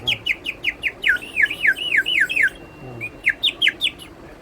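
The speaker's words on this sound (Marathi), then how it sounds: "शिट्टी आहे, पक्ष्यांचा आवाज वगैरे निघतात" A small fired-clay whistle sold at a market fair, blown in quick series of shrill, warbling bird-like chirps, first a run of short rapid tweets then longer trilling calls, loud and close over faint background murmur.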